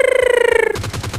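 Burst of gunfire in the mobile battle-royale game PUBG Lite: a rapid run of sharp, evenly spaced shots that shifts into a lower, thudding volley, loud and close with no talk over it.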